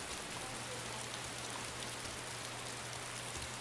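Rain in the video game DayZ hisses as a steady, dense wash of noise throughout, with a faint low hum underneath.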